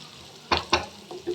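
Food being fried in a pan while making masala paneer gives two sharp bursts of sizzle followed by softer stirring sounds, close and short with no talking.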